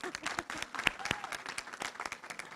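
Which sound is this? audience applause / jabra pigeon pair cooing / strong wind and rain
audience applause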